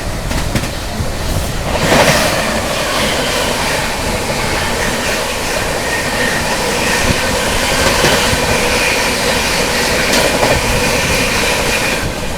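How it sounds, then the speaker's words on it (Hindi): The Dehradun–Subedarganj Express rushes past on the opposite track, a loud, continuous roar of rail cars with rattling wheels and clatter throughout, heard close from a moving train. "सामने से आ रही है, वैसे झिंझक पे हॉल्ट है, जो कि है आप लोगों की देहरादून सुबेदारगंज एक्सप्रेस"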